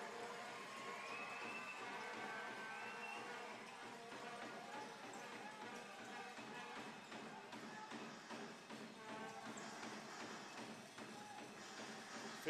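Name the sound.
basketball arena crowd cheering during grand final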